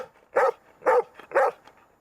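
A dog in a park in Santiago, Chile gives three evenly spaced barks, clear and fairly close against a quiet background.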